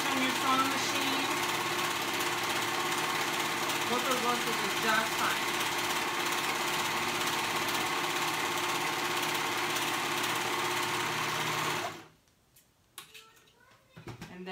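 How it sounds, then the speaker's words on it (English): A steady, loud mechanical whirring of a serger running continuously, then stopping abruptly near the end, followed by a brief spoken remark. "So now I'm going to go ahead and sew those edges together. I am using my serger."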